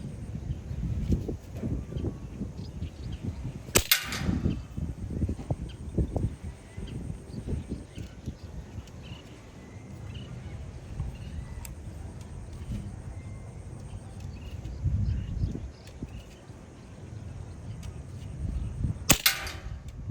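PCP air rifle fires at targets 25 meters away outdoors: two sharp, loud cracks stand well apart over low rustling and handling noise.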